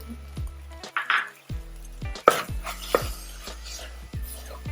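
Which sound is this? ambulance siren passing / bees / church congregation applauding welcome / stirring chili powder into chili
stirring chili powder into chili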